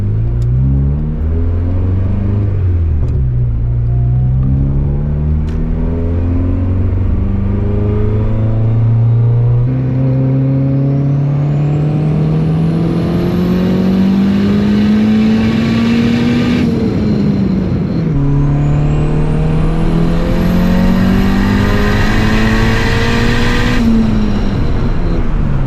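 Turbocharged Honda Civic pulling hard on roughly 24–25 psi of boost, engine note climbing steadily through two long gear pulls with a brief dip at the shift, loud and continuous with turbo whine over the roar.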